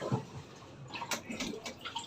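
Water drains through a drain plug, trickling and dripping with small gurgles, faint and close, in a short stretch without talk.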